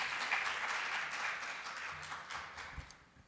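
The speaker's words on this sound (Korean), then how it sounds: "박수로 맞아 주시기 바랍니다." Applause from an audience at a conference session greets an arriving speaker, a steady wash of clapping at moderate level that thins slightly toward the end.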